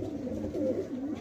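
A domestic pigeon, a fine pure-bred bird kept by a fancier, coos in low throaty rolling phrases, close and steady for a moment with no one talking over it.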